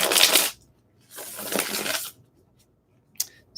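Tarot cards being shuffled in two brisk bursts of papery riffling, close and fairly loud, followed by a couple of short card taps, with no talking.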